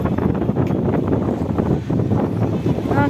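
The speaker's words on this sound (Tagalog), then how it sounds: "Ang lakas ng hangin." Strong wind buffets a seaside pier after heavy rain, a loud, continuous gusty roar with surging rushes that pound the microphone.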